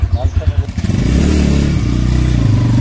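A new motorcycle's engine idles with a low throbbing rumble, then revs up into a steady, louder drone, with a voice briefly audible at the start.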